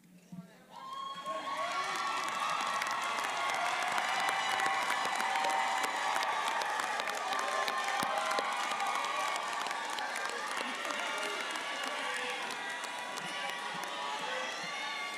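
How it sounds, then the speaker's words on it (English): Graduation audience at Trenholm State Community College's spring 2022 ceremony bursts into sustained applause with cheering, whoops and shouts, a broad, loud crowd roar that continues steadily for the whole stretch. "Yeah, you better applaud for them."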